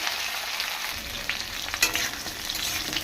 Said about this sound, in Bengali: আর একটু তেল দিয়ে জিরে দিয়ে লঙ্কা দিয়েছি, দিয়ে আলু পটলগুলোকে একটু ভেজে নেবো লাল লাল করে